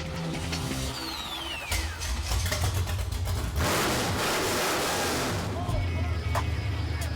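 A race car engine built up for nitrous, in a garage, roars and revs loudly with a dense, steady rumble that surges mid-way, while voices murmur faintly underneath.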